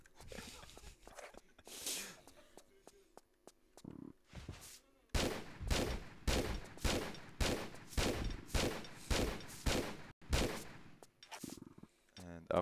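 Video game gunfire in Tomb Raider III as Lara Croft shoots at a boss, about ten evenly spaced punchy shots after a scattered start, with game effects in the background.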